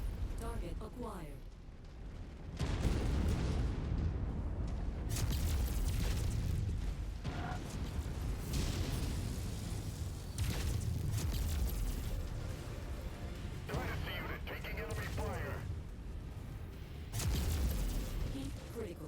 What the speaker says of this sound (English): They make good explosions when they die.